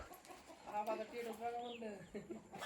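Chickens cluck in short bursts mixed with people talking nearby; the clucks stay moderate in volume under the voices.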